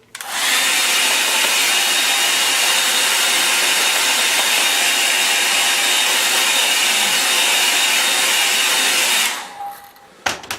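A hair dryer blows steadily at close range over a watercolour and ink mountain painting for about nine seconds, a loud continuous broadband whoosh that cuts off abruptly near the end, followed by brief quiet handling sounds.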